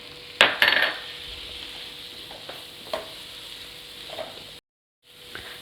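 Onions sautéing in oil for an egg pepper gravy, a low steady sizzle with a few sharp metallic clinks and spoon scrapes against the pan near the start, briefly cutting to silence near the end.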